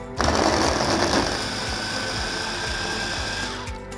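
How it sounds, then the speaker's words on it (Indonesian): Electric chopper running continuously for about four seconds, grinding chili with ground coriander and turmeric for an Indonesian Padang omelette, a loud whirring motor with a rattling blade and a slight drop in pitch near the end, no talking. "Langsung kita chop ya."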